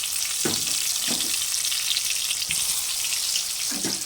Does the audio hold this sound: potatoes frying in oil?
yes